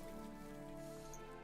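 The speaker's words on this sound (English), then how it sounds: "I love when it's raining" Steady, soft rainfall in Guild Wars 2, a continuous even patter with a faint tonal music bed underneath.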